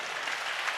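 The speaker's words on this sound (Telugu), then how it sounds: "చప్పట్లు కూడా గట్టిగా" Audience applause at a Christian church gathering in Hyderabad, a steady dense patter of many hands clapping continuously through the brief moment.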